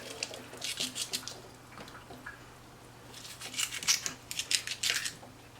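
Scissors snipping through tilapia skin in a kitchen, several short crisp cuts in two clusters, close but fairly quiet over a faint steady hum, no talk.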